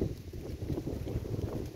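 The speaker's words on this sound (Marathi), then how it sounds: "वारा सुटला आहे, एकदम छान वाटत आहे शेतात" Gusty wind blowing across an open farm field with mung bean and coriander plots, a soft low rumbling buffet against the microphone that rises and falls in faint pulses.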